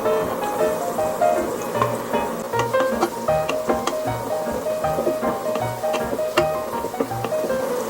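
Garlic goes into a pan of onion that is sautéing until translucent, giving a steady, moderate sizzle with small crackles and pops throughout and no voices.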